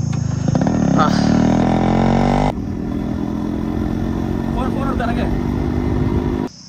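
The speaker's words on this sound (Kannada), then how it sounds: "Sharath bike drive ಮಾಡ್ಬೋತಾನ" A Yamaha RX 100 motorcycle engine revs loudly nearby, then its sound drops as the bike moves off, leaving street noise and voices behind.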